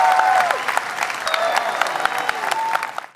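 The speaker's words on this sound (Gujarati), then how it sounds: "તાળીઓ થઈ જાય, come on everybody." An audience at a comedy talk show claps steadily in a dense round of applause that fades slightly over several seconds, with faint crowd noise underneath.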